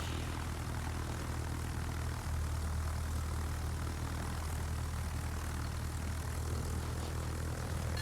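Propeller engines of German carrier aircraft in World of Warships, launched from the Graf Zeppelin tier 8 carrier, produce a steady, loud, continuous droning hum with a deep low rumble, unbroken for the whole stretch with no talk.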